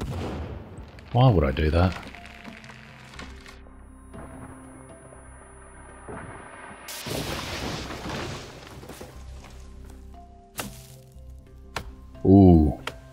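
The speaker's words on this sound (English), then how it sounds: "Oh, I just kicked my own dynamite." Dynamite goes off in the survival game The Forest, a sharp blast followed by a long crackling, rumbling decay amid game ambience, with someone talking briefly before and after.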